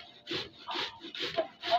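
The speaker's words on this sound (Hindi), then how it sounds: "वो बंद गोभी, वो सारा ही घिसना है" Cabbage is rubbed against a hand grater for veg momos, making steady rasping strokes, about four or five rough scrapes in quick rhythm, close and fairly loud with no voices.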